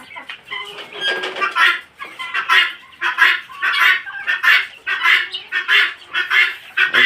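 Chickens on a small home farm let out loud, close, repeated clucking and squawking calls in quick irregular bursts throughout, with no one talking.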